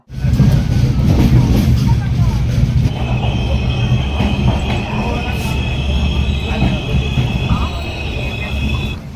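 A train rumbles along at speed with a constant clattering roar, a thin high squeal joining partway through, and muffled voices underneath.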